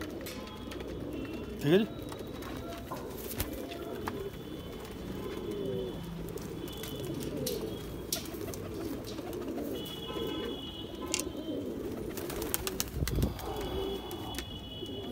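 Pigeons of the Chanda Khani breed in Rampur coo softly and repeatedly against steady background noise, with someone speaking briefly nearby.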